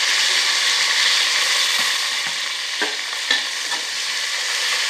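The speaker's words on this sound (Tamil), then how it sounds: "இப்போ வந்து நம்ம வெங்காயமும் பச்சை மிளகாவும் நம்ம போடணும்" Onions and green chillies frying in a pan with a loud, steady sizzle, and a few light stirring clicks and scrapes over the continuous hiss of hot oil.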